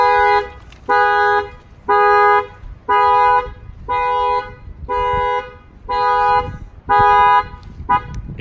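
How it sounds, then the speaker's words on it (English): A 2018 Infiniti Q50 factory alarm with an added shock sensor goes off after a bang on the key cylinder, blaring loud, close, evenly repeated tonal bursts about once per second, eight in a row. "And that will trigger the alarm."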